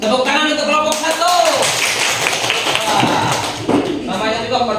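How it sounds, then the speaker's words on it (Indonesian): A classroom group claps for group one, a short burst of hand claps mixed with voices talking over it. "Tepuk tangan untuk kelompok satu."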